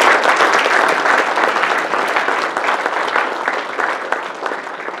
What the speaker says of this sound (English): Would everyone please join me in another round of applause